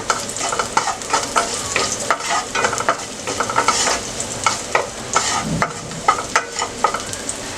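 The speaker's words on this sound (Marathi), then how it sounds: "4 ते 5 लसणीच्या पाकळ्या चिरून घेतल्यात बारीक, अर्धा चमचा जिरे, लसूण परतून घेऊया।" Chopped garlic and cumin seeds sautéed in a spoonful of oil in a pan, sizzling busily with repeated scraping and stirring strokes close by.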